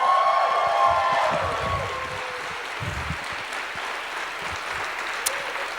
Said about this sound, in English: I want to give a huge round of applause to our presenting partner, GitHub